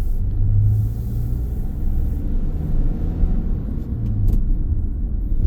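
A Mercedes-Benz Sprinter Luton 314 CDI van, 2.1-litre diesel with six-speed gearbox, rolls over speed bumps, heard from inside as a steady low rumble of road and engine with gentle swells and no rattles.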